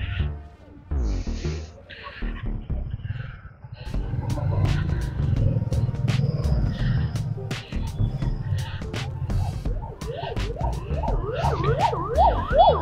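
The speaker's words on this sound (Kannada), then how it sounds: "ಆಂಬುಲೆನ್ಸ್." An ambulance siren wails on the busy weekend road between Kushalnagar and Madikeri, rising into sweeping up-and-down tones toward the end over the rumble of passing traffic and the car's engine.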